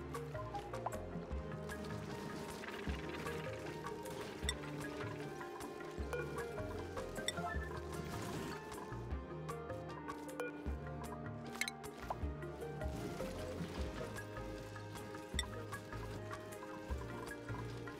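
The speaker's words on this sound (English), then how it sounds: "It means we can fill it half full of water. We'll use, for example, this salt water." Salt water filling a tank in the Oxygen Not Included game: a steady run of dripping, sloshing liquid that carries on for the whole stretch, with busy game sounds mixed in and no talking.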